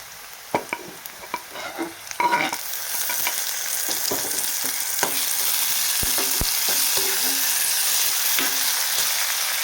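Chopped tomatoes go into browned onions in a hot pan for a soybean bhaji, and after a few scattered clinks and scrapes a steady loud sizzle swells and keeps frying, broken by occasional spoon stirs.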